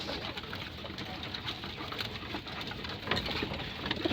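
Pigeons on a house roof give a low, muffled cooing and shuffling that sits faintly under a steady background hum.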